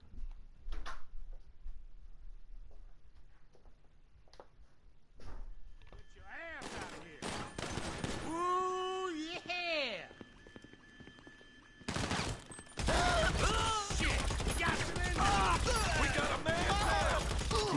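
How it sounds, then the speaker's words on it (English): An AP pistol fires in rapid bursts in a video game about a stash house, with sparse shots at first, then dense crackling volleys amid other game noise and effects. "For me, I am going to use my AP pistol."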